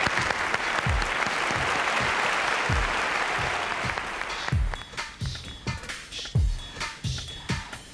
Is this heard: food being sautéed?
no